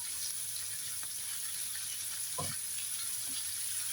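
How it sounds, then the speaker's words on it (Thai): Minced pork stir-fries in a pan for Thai basil pork, a soft, continuous sizzle with a few faint scrapes of the spatula. "猪肉碎落去炒一炒佢啊， 炒到佢散開為止嘅"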